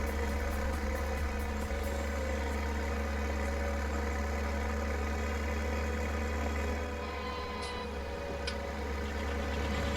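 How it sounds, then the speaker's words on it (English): A farm tractor hauling a heavily loaded trailer runs with a steady, labouring low drone and constant rumble, with faint rattles near the end and no speech. "Tractor's really struggling"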